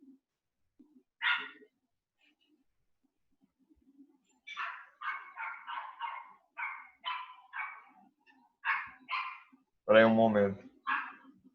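A small dog yaps in quick bursts of sharp, close barks, with a louder bark near the end, interrupting a person speaking indoors.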